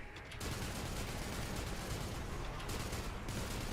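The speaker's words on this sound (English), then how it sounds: "I hate the fucking recoil on this gun" A gun firing in the game Mega Bonk, a dense stream of rapid shots that runs on at moderate loudness with no clear gaps.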